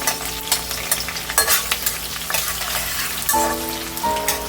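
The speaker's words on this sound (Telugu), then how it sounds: "ఆయిల్ హీట్ అయింది కదా, ముందుగా కట్ చేసుకున్న పచ్చిమిర్చి, ఆనియన్ వేసేద్దాం. కొంచెం రెడ్గా వేయించాలి." Chopped green chillies and onion fry in hot oil with a busy, crackling sizzle. Stirring scrapes and clatters come through close and fairly loud.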